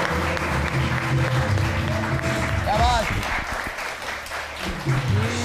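Studio audience applause on a Pakistani comedy talk show, a steady dense wash of clapping running the whole stretch under a voice talking.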